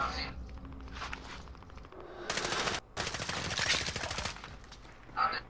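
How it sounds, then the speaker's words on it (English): Video game gunfire: rapid automatic bursts crackle in loud clusters, broken by short pauses, with faint footsteps and a voice underneath. "They're shooting at me!"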